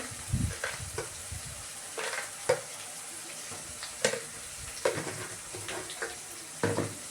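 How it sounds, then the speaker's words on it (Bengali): Spices with turmeric powder and salt being stirred and fried in a pan, a quiet low sizzle broken by irregular scraping strokes of a spoon, each a short soft burst, close by. "ভালোভাবে মশলাটাকে কষিয়ে নেবো"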